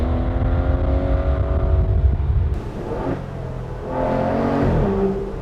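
The Aston Martin Vanquish Volante, a convertible with a ZF 8-speed automatic, rumbles loudly up close, its engine note dropping back and then swelling again as it revs with a deep, throaty growl.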